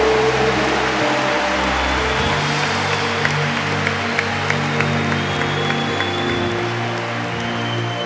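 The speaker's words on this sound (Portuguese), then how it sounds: "Aplauda primeiro, pode aplaudir." A congregation claps steadily through an Easter Vigil mass in church, with a dense, even wash of applause and sustained musical tones held underneath throughout.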